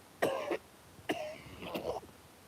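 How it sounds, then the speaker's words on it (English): Three harsh, close coughs in a row, each a sharp burst with a rough raspy tail, spaced about a second apart in a quiet room. "I've been coughing for like a whole fucking half an hour. Back to back."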